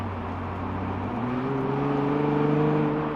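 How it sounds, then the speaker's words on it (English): A 2019 Nissan 370Z Nismo engine hums steadily, its sporty exhaust note rising in pitch as it accelerates, with a smooth, continuous drone throughout. "it has a more sportier exhaust than just your regular 370Z"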